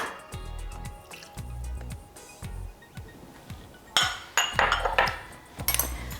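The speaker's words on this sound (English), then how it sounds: "So we just mix sambal and the lime juice together." Sambal being stirred together with lime juice in a container, giving soft wet clinks and scraping knocks against the sides in a loose rhythm, growing louder and busier toward the end.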